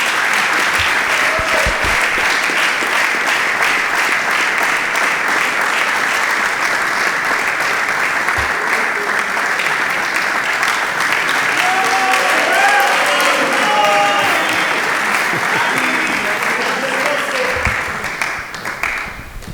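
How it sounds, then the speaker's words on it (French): A live audience gives a guest a loud, sustained round of applause, dense clapping that carries on for many seconds, with some voices mixed in before it starts to thin at the end. "Est-ce qu'on peut applaudir très fort pour lui?"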